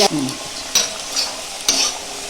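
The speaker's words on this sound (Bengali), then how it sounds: "ভালো করে নাড়াচাড়া করে ভেজে নিয়ে আমি ওই পনিরের মধ্যে দিয়ে দেবো।" Paneer fries in a pan, with a continuous sizzle broken by a few sharp scraping stirs of a utensil against the metal.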